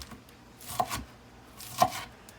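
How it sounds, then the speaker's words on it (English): A knife chopping lettuce small on a cutting board while making barbecue bacon cheeseburger tacos, with two distinct close, crisp chops about a second apart over a quiet background. "we'll just keep chopping small like this"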